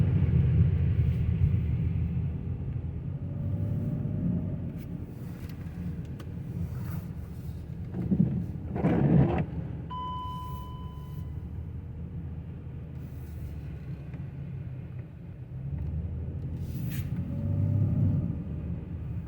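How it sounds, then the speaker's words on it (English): A BMW E38 sedan's engine runs as it drives along, a low steady rumble with some brief higher noises and a faint tone midway. "I'm gonna shut up for a moment just for you to hear the car."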